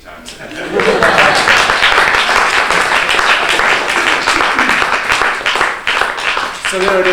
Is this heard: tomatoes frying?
no